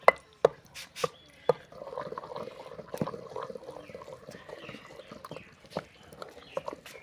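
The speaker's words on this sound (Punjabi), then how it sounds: "ਲਗਾਤਾਰ ਜੀ ਘੋਟਣੇ ਦੇ ਨਾਲ ਘੋਟੀ ਜਾਵਾਂਗੇ" Saag is mashed by hand with a wooden masher, producing irregular hollow knocks and thuds, some sharp and spaced, others in quicker soft bursts, close and fairly quiet.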